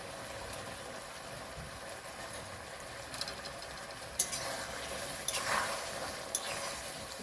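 Chili chicken being stirred in a hot pan, a steady low sizzle with scattered scrapes and clinks of the spoon against the metal, fairly soft and with no talking.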